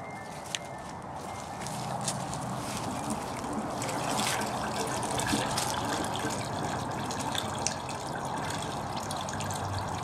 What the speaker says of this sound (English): There's water coming in the septic, so I can see it draining.